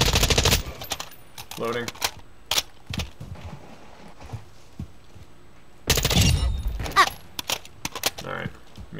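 Bursts of automatic gunfire in Call of Duty: Modern Warfare II, loud rattling volleys at the start and again midway, with scattered single shots between and players talking over the action.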